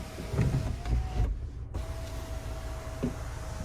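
The power sunroof and shade of a 2022 Kia Sorento SX Prestige close with a steady, close electric motor whine, briefly pausing partway and then carrying on.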